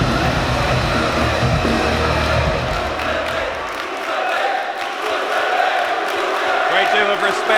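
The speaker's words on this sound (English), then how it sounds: "You hear them chanting for Bruiserweight" A wrestling crowd at a live event chants and roars in a loud, continuous swell, with a commentator talking over it.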